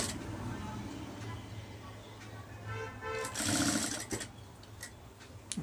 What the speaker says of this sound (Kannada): ಸ್ಟಿಚಿಂಗ್ ಆಗ್ತಾ ಇದ್ದೀನಿ, ನೋಡ್ಕೊಳ್ಳಿ ಎಷ್ಟು ಕ್ಲೀನಾಗಿ ಪೈಪಿಂಗ್ ಮಾಡ್ಕೋಬೇಕು ಅಂತೇಳಿ